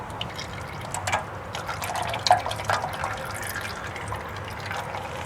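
Slow, irregular drips of motor oil fall from a removed oil filter on a 2010 Nissan Rogue, each a soft wet tap over a faint steady background hiss.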